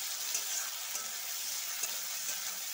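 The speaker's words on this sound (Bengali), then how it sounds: "দেখো এখন আমি এর মধ্যে দিয়ে দেবো পেঁয়াজ কুচি।" Chopped onion and tomato fry with dried chilli and cumin in hot oil, giving an even, continuous sizzle at moderate level with a few soft crackles and no talking.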